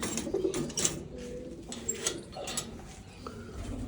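Pigeons coo softly in a breeding loft, with several low, throaty calls repeating over steady background rustle, close by and fairly quiet.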